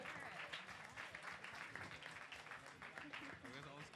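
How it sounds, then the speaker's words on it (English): Live audience applause at a horror-themed comedy stage show, steady clapping filling the room for the full stretch with overlapping voices and talk from the stage mixed in. "Give them a round of applause."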